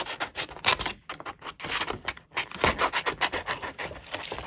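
Scissors cut through a paper card around a beetle-shaped design, with close, rasping snips in quick irregular runs and brief pauses.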